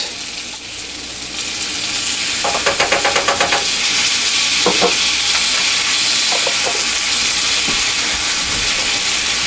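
Minced garlic sizzling in a hot pan, a dense loud hiss sustained throughout, with bursts of rapid crackling pops and a few clinks of utensils against the pan.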